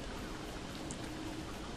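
Steady rainfall in the video game Don't Starve, a soft, even hiss of falling rain that stays faint and constant throughout, with no talk.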